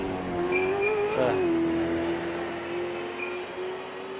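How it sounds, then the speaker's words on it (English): A race car with a Chevy engine runs laps in a race-series event, its engine a steady, continuous drone with a brief pitch rise and fall partway through, heard from inside or close by with no talk. "Nothing like a Chevy engine purring"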